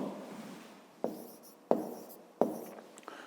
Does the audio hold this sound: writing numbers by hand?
yes